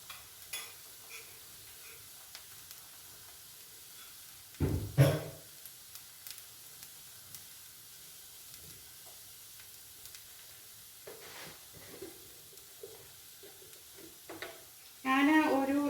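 Egg omelette cooking in a pan with a soft, steady sizzle of moderate loudness throughout, punctuated by a few louder scraping and spreading bursts near the start and end.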